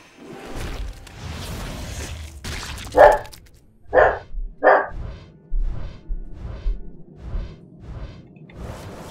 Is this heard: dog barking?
yes